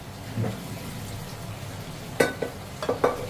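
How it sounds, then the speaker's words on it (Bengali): Chopped tomatoes and green chillies drop into a simmering mutton and potato curry, giving a low steady sizzle with a few sharp splashy bursts and stirring clatters near the end, with no voices. "এবার আমি কাটা টমেটো আর কিছু কাঁচা লঙ্কা দিয়ে দেবো এর মধ্যে"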